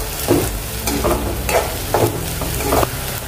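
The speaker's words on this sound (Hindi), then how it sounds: "प्याज को अच्छे से नरम होने दीजिए और थोड़ा सा कलर आने दीजिए।" Finely chopped onions fry in a pan for a matar paneer dish. A steady close sizzle runs throughout, broken by regular scraping stirs about every half second.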